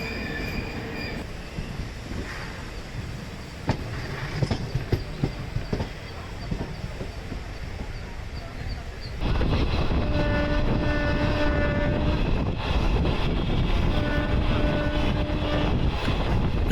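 A Jan Shatabdi superfast Pongal special train on the Tambaram to Trichy run rumbles past, a steady rolling roar that jumps louder about halfway through, with sustained high wheel squeal tones over the heavy low din.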